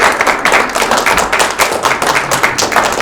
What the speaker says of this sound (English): please give yourself a round of applause for good support